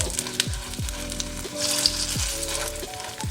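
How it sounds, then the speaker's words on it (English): A vegan seitan steak fries in a pan, giving a close, continuous sizzle with recurring squeaky, whining tones rising over it every second or so. No one speaks. "now we have our fried up seitan"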